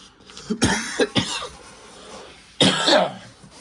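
Several harsh coughs come in quick bursts, followed by a pause and another heavy fit of coughing, close by.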